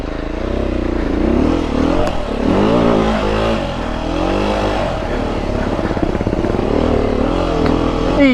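A Beta 390 RR enduro motorcycle rides off-road near Hindhead and the Devil's Punchbowl, its engine revving up and down loudly and continuously with rising and falling pitch sweeps up close.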